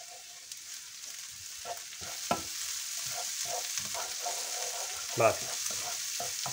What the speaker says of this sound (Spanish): añadimos aquí el pimentón. Lo freímos aquí unos segundos nada más.